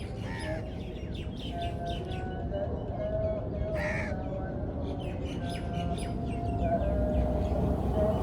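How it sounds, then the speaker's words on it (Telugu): Koels and other birds call repeatedly outdoors in a steady stream of caws, chirps and whistles, with a constant low background rumble and no speech. "ఆ కోకిలు, ఆ పక్షులు సౌండ్లు అయితేనండి."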